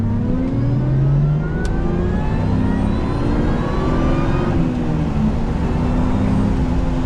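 A 1995 Aston Martin DB7 engine revs up close and loud, rising and falling in pitch through several throttle blips over a steady exhaust drone, with no voices.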